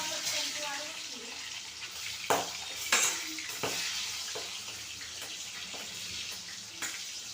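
Corn kernels fry in hot oil with a steady broadband sizzle, broken by a few sharp clattering stirs and knocks of a utensil against the pan, close and moderately loud.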